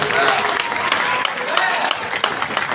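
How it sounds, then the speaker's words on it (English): A crowd claps and cheers in a dense, steady wash of applause at a tiger show, with voices calling out over it. "Let's give him a big round of applause, guys."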